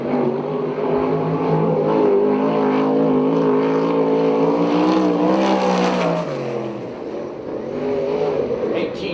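USAC/CRA sprint car at Perris, California, on a qualifying lap: a loud, high engine drone that holds, rises in pitch, then drops off and builds again as the car passes.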